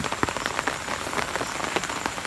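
Steady rain pattering on a surface nearby, with scattered louder drops tapping irregularly throughout.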